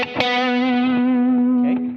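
An electric guitar plays part of a lick with a distorted, effects-laden tone: a short slide into one long sustained note, then a brief slide off near the end. No one speaks over it.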